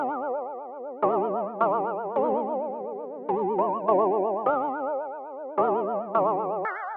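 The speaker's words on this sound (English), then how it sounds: "I'm going to turn it up so you can really hear the wobble" An RC-20 Retro Color wobble effect turned up high gives sustained chords a goofy, toy-like warbling pitch wobble that repeats in phrases, loud and upfront with no talking.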